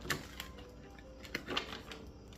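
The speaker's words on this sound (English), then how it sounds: "Give these an itty bitty shuffle here." A deck of cards gets a brief shuffle, faint quick papery clicks and flutters in short irregular bursts at close range, with quiet gaps between them.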